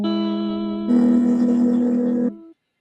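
A pedal steel guitar sounds a sustained sixth interval on strings 2 and 5, held close and clean, then swells louder with added overtones before stopping abruptly, leaving a short ringing tail.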